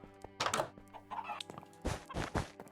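Minecraft chickens cluck in short, close bursts, a few separate clucks with small thunks between them and brief pauses.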